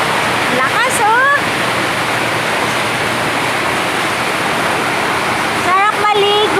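Heavy rain pours down hard outdoors in the Philippines, a dense, loud, continuous roar of water with brief squeaky sounds at the start and end.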